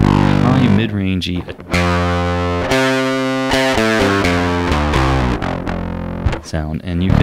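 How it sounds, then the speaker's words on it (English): Heavily distorted electric guitar through a DOD Supra Distortion pedal, playing sustained chords and riffs, bright and saturated with high mids, with brief pauses between phrases. "as the Supra distortion, it goes beyond normal distortion"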